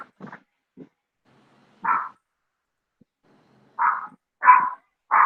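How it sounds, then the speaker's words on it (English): Two small dogs, a Maltipoo and a Jack Russell-Chihuahua mix, bark in short sharp bursts with a few softer yips, loud and close, scattered with quiet gaps between. "You got the dog going off too, huh?"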